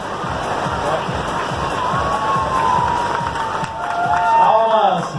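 Spectators clap and cheer in the rain as a runner arrives at the finish of a street race, a steady crowd roar with scattered shouts and a sustained whistle-like tone rising near the end.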